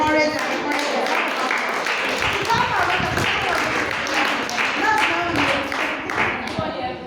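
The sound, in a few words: applause for a nurse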